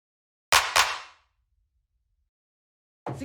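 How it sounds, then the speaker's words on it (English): Two sharp, bright techno clap hits in quick succession, the second trailing into a short decaying tail, then silence until another percussive burst starts at the very end. Dry and loud, no voices. "the last layer that we have here is the clap, which sounds like this"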